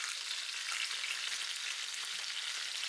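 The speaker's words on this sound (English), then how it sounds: "Frying them in a little bit of oil." Beef oxtail seasoned with salt and pepper frying in a little grapeseed oil, a steady close crackling sizzle with no talk.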